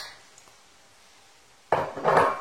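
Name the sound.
mixing pasta salad in a bowl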